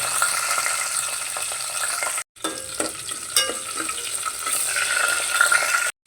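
Chana dal, cumin and green chilies frying in hot oil for a bitter gourd masala curry, a loud dense crackling sizzle with stirring, cut by two brief silent gaps.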